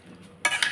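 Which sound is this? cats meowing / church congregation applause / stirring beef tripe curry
stirring beef tripe curry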